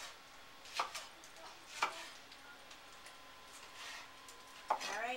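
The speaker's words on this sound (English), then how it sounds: "Just to give these a little chop." A knife chops hot peppers on a cutting board, three separate sharp knocks spaced apart, quiet and close in an otherwise calm kitchen.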